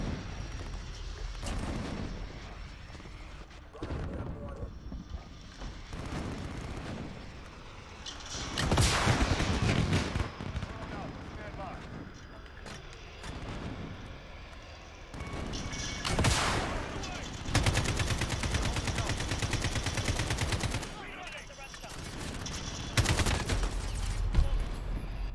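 Gunfire and explosions ring out in a Call of Duty Modern Warfare match as a VTOL aircraft attacks from above, with dense repeated bursts and heavy blasts swelling and fading over the whole stretch, and a voice talking over parts of it.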